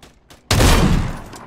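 A sudden loud burst of video game gunfire erupts after a quiet moment, a dense fusillade that rings on and slowly tapers through the rest of the moment.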